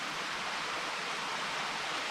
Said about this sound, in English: He's got that waterfall over there, which is a smaller creek running into that, which is spilling into this.